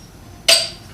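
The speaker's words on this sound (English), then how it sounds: "pop open the bottle there" A metal cap pops off a beer bottle, pried with a knife: one quick, close, bright snap with a short ringing fade in an otherwise quiet room.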